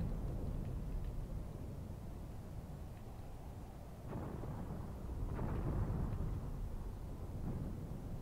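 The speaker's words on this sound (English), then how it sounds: "And there's my artillery going down." Artillery and mortar fire, including 76mm and 80mm mortars, lands in the World War II strategy game Graviteam Tactics, set around Kharkov in 1942. Deep, continuous rumbling swells with heavier booms rolling in partway through, with no voices.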